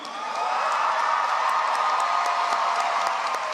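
A crowd applauds and cheers at a diploma presentation, a dense, steady wash of clapping that swells in quickly and holds loud for several seconds.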